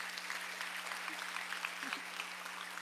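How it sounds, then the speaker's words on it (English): A school board meeting audience applauds a teacher with steady, even clapping that holds for about three seconds at moderate volume, with a faint low hum underneath. "Let's give her a big, big round of applause."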